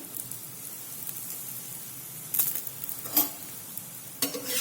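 Methi thepla cooking with a spoonful of oil on a hot griddle, a quiet, even hiss with a few brief louder sizzling bursts as the oil spreads.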